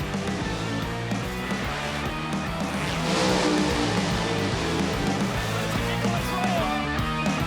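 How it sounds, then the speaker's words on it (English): Nitro funny cars idle and rumble loudly in the staging lanes at Hidden Valley Raceway in Darwin, a dense continuous engine roar with no clear gaps. "Funny cars in the staging lanes."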